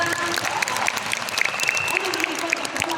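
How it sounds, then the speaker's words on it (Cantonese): An audience at a Cantonese talk or seminar applauds, a dense, sustained burst of hand clapping with a few brighter, sharper claps standing out, and a voice speaking faintly over it. "俾啲掌聲啦！"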